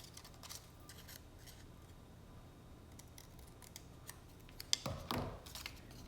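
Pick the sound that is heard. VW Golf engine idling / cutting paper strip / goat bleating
cutting paper strip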